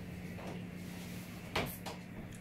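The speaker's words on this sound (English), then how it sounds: "Shut the door." A door shut indoors, one sharp thud around the middle with a lighter knock after it, standing out over a steady low room hum.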